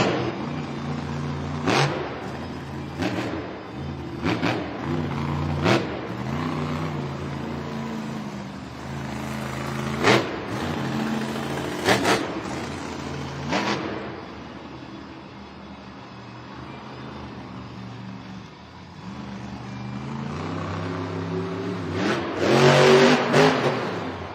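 The engine of the El Toro Loco monster truck roars at a stadium event, with repeated loud revs and surges that rise and fall over a constant crowd and arena din.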